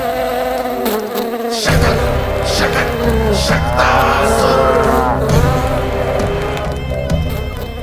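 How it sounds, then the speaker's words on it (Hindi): A housefly buzzes through a busy domestic scene, its insect drone running throughout under voices and other household sounds at a steady, fairly loud level. "लगता है मक्खी थक गई है, कोई और साधन ढूंढना पड़ेगा।"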